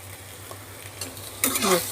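Kashmiri chili powder and sugar, stirred into spices in a pan for a water lily stem dish, make a faint low sizzle before a louder burst of scraping and sizzling near the end.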